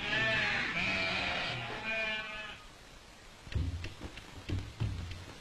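Sheep from a flock kept by Gaddi shepherds in the hills bleat in the open, several loud wavering calls at first, then fainter scattered bleats and thumps.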